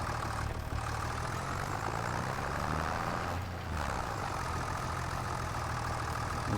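A tractor engine idles steadily in Farming Simulator 25, a low continuous rumble with a constant drone and only brief dips, no talk over it.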